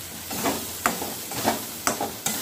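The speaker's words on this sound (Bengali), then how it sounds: "টক দইটা দিয়ে আবার কিছুক্ষণ নেড়ে নেব।" Whisked sour yogurt stirred into a cashew-coconut paste frying in a pan for a Bengali paneer and pointed gourd curry: a gentle sizzle broken by regular scraping strokes of a spoon about every half second, close and without talk.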